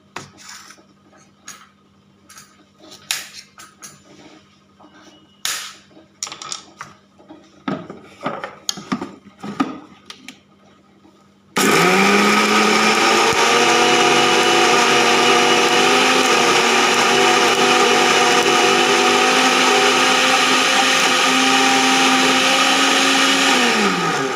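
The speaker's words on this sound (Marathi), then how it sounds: "तर आपण ह्याला मिक्सरमधून काढून घेऊया" Scattered clattering and knocking sounds, then a loud mixer grinder grinding spices starts up and whirs steadily at high speed until it winds down.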